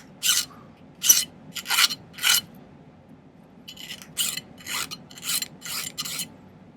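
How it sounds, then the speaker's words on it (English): Metal file smoothing the edges of small silver ring pieces in bursts of rasping strokes, four quick ones, a pause, then about six more, close and crisp in a quiet room. "I'm going to spend a little time kind of filing the edges of these to make them"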